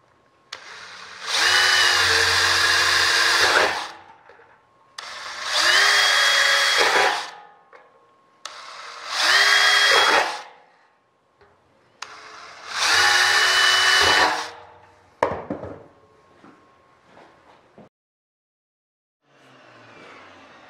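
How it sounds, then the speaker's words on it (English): A power drill whines in four long bursts of about two seconds each, drilling rivet holes in metal airplane flap parts, separated by short pauses, followed by a few faint clicks and handling sounds. "Bring it over and drill them all."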